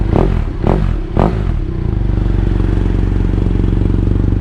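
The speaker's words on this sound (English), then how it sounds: "I'm gonna give it a rev or two" A BMW F800GSA motorcycle with a Yoshimura R77 slip-on exhaust blips its throttle three times in quick succession, loud and close, then settles into a steady, deep, lumpy idle.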